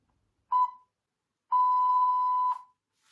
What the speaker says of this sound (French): Attendez bien le bip.